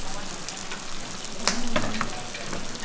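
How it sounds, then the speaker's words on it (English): Bò né steak sizzling on a hot iron plate in a hidden alley eatery in Saigon, Vietnam, a steady close frying hiss with a few brief clinks over quiet background. "Oh, it's still sizzling."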